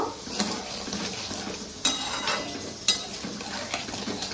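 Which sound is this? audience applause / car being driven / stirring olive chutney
stirring olive chutney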